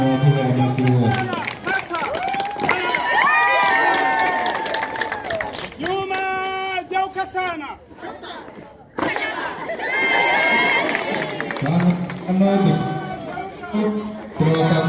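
A crowd at a parade claps and cheers loudly, with dense shouting, chanting voices and chatter mixed through the noise.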